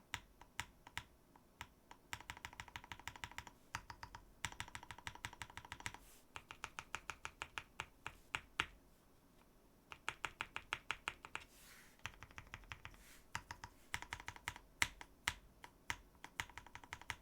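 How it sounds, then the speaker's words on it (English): Keys on a D45 gasket-mount mechanical keyboard with Aqua King switches and PBT keycaps, pressed in quick bursts of crisp clacks, pausing between runs as individual keys are tested for rattle. "Does that rattle, or is it just a smaller keycap?"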